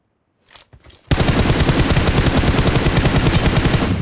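Sustained automatic gunfire in the BGMI mobile battle royale, a few faint shots at first, then a loud, continuous rapid burst of rounds from close range, with no talk.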